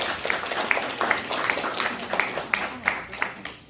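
A seated audience claps to welcome a guest at a rural village-development forum in South Chungnam, giving fairly faint, dense applause with scattered sharper claps, steady throughout.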